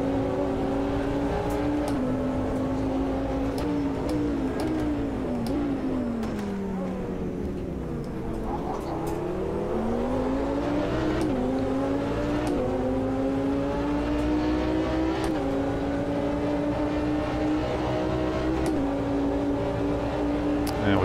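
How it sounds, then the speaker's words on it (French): A Porsche race car engine in the Automobilista 2 racing game at the Circuit of the Americas holds a steady high drone, dipping and climbing again as it shifts through gears, with rival cars nearby. "Donc nous avons une Porsche et c'est une Merco je crois devant."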